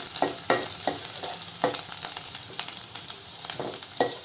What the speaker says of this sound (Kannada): ಬೆಳ್ಳುಳ್ಳಿ ಸ್ವಲ್ಪ ಚೆನ್ನಾಗಿ ಫ್ರೈ ಆಗಲಿ.